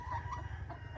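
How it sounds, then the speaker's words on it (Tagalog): A farmyard chicken gives a couple of short, close clucks over low background rumble. "That's my chicken."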